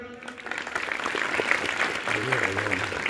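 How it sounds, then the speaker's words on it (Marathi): An audience clapping at a gathering, a dense burst of applause that swells and holds for a few seconds, with a voice speaking over it. "एकदा तुमच्या स्वतःसाठी एकदा टाळ्या वाजवा बरं"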